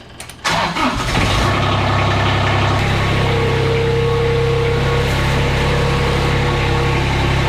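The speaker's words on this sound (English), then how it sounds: "So this is the diesel engine. It's got glow plugs" A diesel reel mower engine with glow plugs cranks briefly, catches, and settles into a loud, steady rumbling idle close by.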